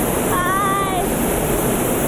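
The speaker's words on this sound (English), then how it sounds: "you have to watch this waterfall" A waterfall in Russia roars in a steady, dense rush of falling water, close and loud throughout, with a faint high tone briefly riding over it.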